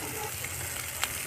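Oil frying for soybean chilli gives a short burst of even, close sizzle with a faint crackle partway through.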